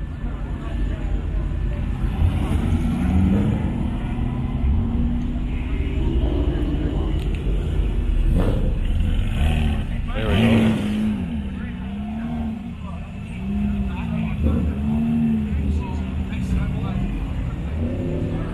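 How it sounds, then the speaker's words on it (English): Cars with raspy, barking aftermarket exhausts pass at a cruise event, engine drone steady and fairly loud throughout with a couple of louder swells, while people talk nearby. "somebody there barking quite the raspy exhaust note"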